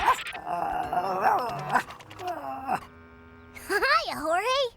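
A cartoon dog growls playfully while tugging a rope toy, giving drawn-out, wavering voiced growls close up in short bursts across the clip, with a brief quiet gap in the middle.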